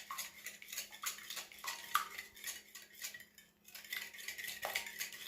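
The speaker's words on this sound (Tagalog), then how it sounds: "Get an egg beater and give them a mix." An egg beater whisks egg and sunflower oil in a bowl, a quick, rhythmic metallic clinking and scraping that stays close and fairly quiet.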